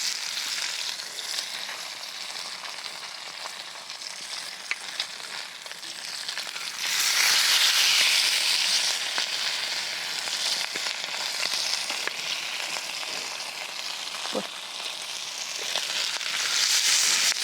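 Fish fries in sunflower oil in a pan with a steady, crackling hiss that swells louder partway through and stays bright and continuous, with occasional sharper pops and no one talking.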